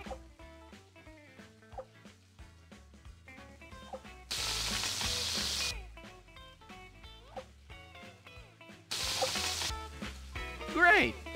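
A burger sizzling on a grill in the Wii cooking game Order Up!, two loud bursts of hissing sizzle over an upbeat game music backing.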